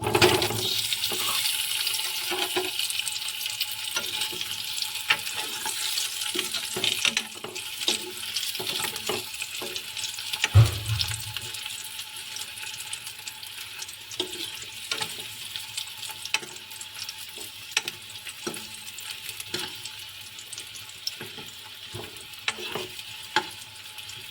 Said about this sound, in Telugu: ఇప్పుడైతే ప్యాన్లో మళ్ళీ రెండు స్పూన్ల ఆయిల్ వేసుకుని ఇప్పుడైతే పొటాటోస్ని లైట్గా ఫ్రై చేసుకుంటాను